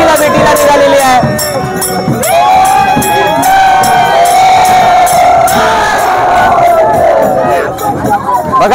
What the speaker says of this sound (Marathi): बघा या ठिकाणी हा जल्लोष आपल्याला पाहायला मिळतोय